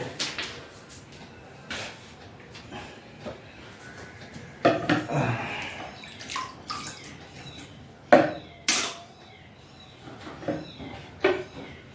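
Old aquarium water is scooped with a mug and poured out during a water change, giving scattered splashes and sloshing pours with clinking handling noises between them, close by and irregular.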